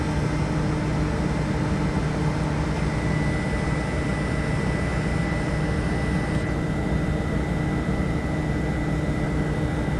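A vacuum pump runs steadily on an R22 walk-in cooler refrigeration system during a compressor change-out, a constant loud drone with a faint high whine and no breaks.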